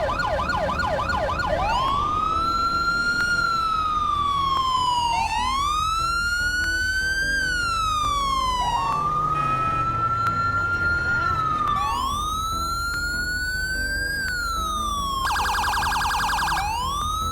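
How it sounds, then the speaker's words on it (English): Modded police, FBI and ambulance sirens from GTA 5 wail in a continuous loud sequence, rising and falling sweeps switching between patterns, ending with a rapid high yelp, close and without talk. "the sirens sound completely different right now, which I think is a massive upgrade"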